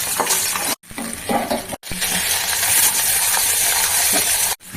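Katla fish pieces frying in a pan for doi katla, a loud, dense sizzle and hiss broken by a few brief pauses while the pieces are turned and lifted out.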